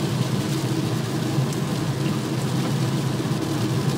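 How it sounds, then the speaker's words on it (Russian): Heavy rain pours down steadily, a dense, constant hiss drumming on a car during a drive in traffic in Lyubertsy, with low road rumble beneath and no voices. "какой сильный дождь пошел"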